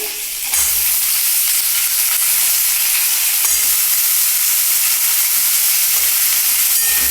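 Potatoes fry in a pan with a loud, continuous hissing sizzle that stays steady and close throughout, with no speech over it.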